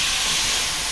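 Garlic and freshly washed amaranth leaves sizzle hard in a hot pan, a steady, loud hiss with no break across the short moment.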